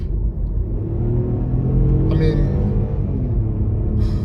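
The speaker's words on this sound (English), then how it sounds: "this 3-cylinder also, yeah, it likes to rev, but it's not really going anywhere" A 2024 BMW X2 sDrive18i three-cylinder engine drones steadily with a deep, loud rumble as it revs, heard from inside the cabin, with a brief higher whine midway.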